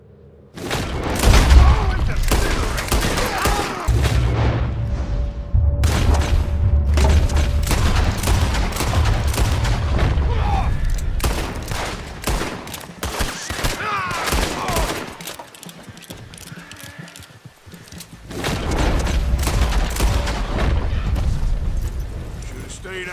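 Dense bursts of gunfire in Red Dead Redemption 2, rapid cracks and booming shots layered over rumbling low noise for most of the stretch, loud and close, with a voice briefly speaking over it.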